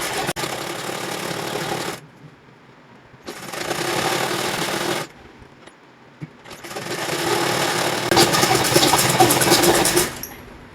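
A sewing machine stitches the trim strip on a plain slip in bursts, running loud and close for a few seconds, pausing, then running again in longer stretches with brief gaps between.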